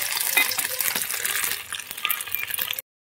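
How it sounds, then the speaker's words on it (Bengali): An egg frying in a pan gives a steady, close hiss and crackle with scattered small pops and clicks, running unbroken for nearly three seconds before cutting off. "এখন একটা ডিম ভাজছি"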